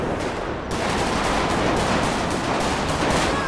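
Dense automatic gunfire in a street shootout with police in GTA 5, loud and close, with rapid overlapping bursts that keep going without a break.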